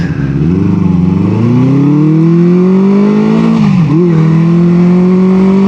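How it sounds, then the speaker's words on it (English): A 1973 Honda CB350 Four four-cylinder motorcycle engine, still cold, runs loud and close, revving up in a smooth rising climb, dipping briefly, then holding a higher steady tone. "I love the sound of this engine"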